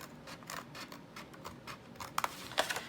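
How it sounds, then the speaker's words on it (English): Scissors snip off the corners of paper for a planner, giving a series of close, crisp cuts and scratchy slices that grow sharper toward the end over a quiet background. "So I'm gonna cut out all the corners, all 4 of the corners, just with a pair of scissors here."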